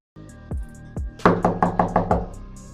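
Knocking at a door, starting with two separate heavy thuds and then a quick run of five sharp raps, loud and close with no voices.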